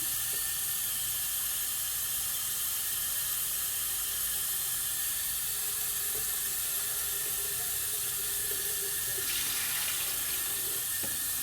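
Warm tap water runs steadily into a basin for rinsing, a continuous close hiss and splash that holds for the whole stretch with slight shifts in flow near the end.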